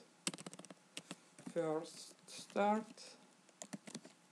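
Keys clatter on a computer keyboard in short quick bursts, close by, with someone speaking briefly in the middle.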